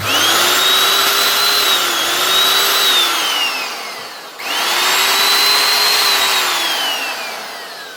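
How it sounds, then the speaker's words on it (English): Compressed air blasts dust out of a Makita router in two long, loud bursts with a short pause between them, a steady whooshing hiss with a whining tone that rises and falls, with no talking. "Just give it a quick blow with the compressor."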